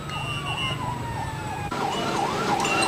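A fire truck's wailing siren sweeps up and down repeatedly, then shifts to a faster yelp, with a steady high tone and road rumble underneath, at a fire burning about 100 houses in Quezon City.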